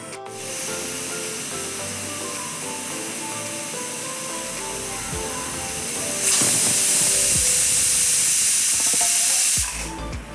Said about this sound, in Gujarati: ચાર સીટી થઈ ગઈ છે